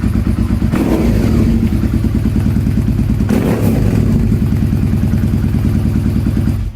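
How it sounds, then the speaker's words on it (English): A 2002 Suzuki SV650S motorcycle idles loudly nearby, its exhaust a rough, steady burble that never lets up, with a couple of brief clattering blips. "It's a really obnoxious exhaust for just idling."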